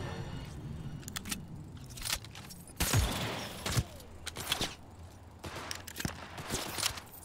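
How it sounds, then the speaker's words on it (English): Gunfire from shooting enemies in the video game Cyberpunk 2077: a few sharp shots stand out over a busy game soundscape, with a heavy burst near three seconds and scattered reports after it. "So then you shoot these guys."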